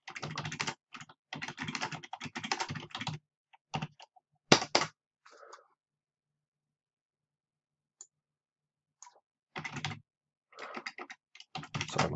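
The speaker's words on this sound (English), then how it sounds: "Sorry, my typing." Rapid bursts of typing on a computer keyboard, close and clear, with dense clattering runs broken by pauses and a few isolated key taps.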